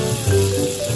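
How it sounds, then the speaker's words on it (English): Water running steadily from a tap in a short burst, close and fairly loud, with no talk over it. "I can control water coming out from the tap with just one finger."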